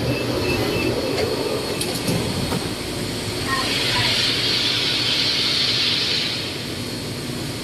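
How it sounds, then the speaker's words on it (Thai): An electric train on Bangkok's Pink Line monorail rumbles into a station steadily with a rising high-pitched whine and faint squeal of wheels, a continuous nearby roar throughout. "The next train will arrive in 30 seconds."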